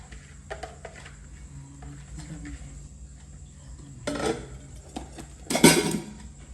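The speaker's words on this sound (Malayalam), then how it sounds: "ഇതാ ഞാൻ ചോറ് ആദ്യം തന്നെ ഒരു പാത്രത്തിലോട്ട് മാറ്റുകയാണ്" Hot cooked rice, drained dry, is moved into a serving bowl, with a few soft clinks of a utensil on metal dishes, close by. A louder burst of clatter and scraping sounds near the end, with no talk.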